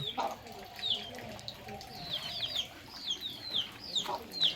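Country hens cluck and murmur close by as they feed in an outdoor yard, with small birds chirping in the background.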